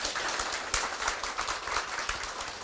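An audience claps at a real estate brokerage startup lecture, giving brisk, dense applause with a few louder hits mixed in.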